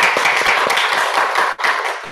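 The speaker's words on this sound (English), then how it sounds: "Please give a applause for Mbak Dwi." An audience applauds a presenter after an oral qualitative research presentation, a short, dense burst of close clapping that dips briefly before swelling again.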